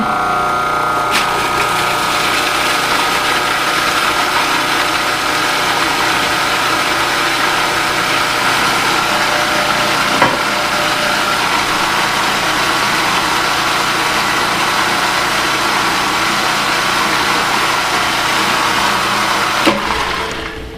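A countertop blender runs continuously while mixing salad dressing with white wine, a loud steady motor whir that holds unbroken for about twenty seconds before cutting off.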